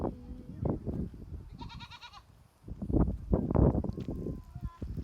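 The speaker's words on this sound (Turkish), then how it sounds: "Merhaba keçi." A goat bleats once, a short wavering cry amid nearby chatter and shuffling footsteps.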